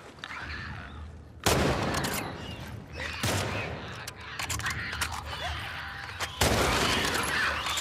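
Bursts of gunfire in The Last of Us Part II, several loud sharp volleys separated by quieter stretches of ambient game sound, with a voice talking between shots.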